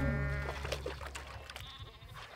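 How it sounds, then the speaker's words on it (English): Sheep bleat repeatedly and loudly at close range while being corralled into a pen on a California farm, several overlapping calls with some shuffling noise between them. "Once the sheep are all corralled into the pen, Corey and Candace must weigh each animal."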